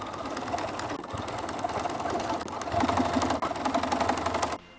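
Sewing machine top stitching close to the edge of a blouse cuff, a steady rapid mechanical chatter running continuously nearby, growing slightly louder before stopping abruptly.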